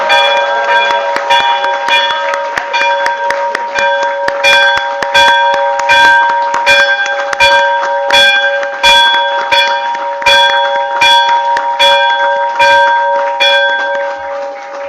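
A bell rung at a stock market IPO listing ceremony for GNG Electronics Limited clangs in loud, repeated, evenly spaced strikes with long ringing overtones sustained throughout.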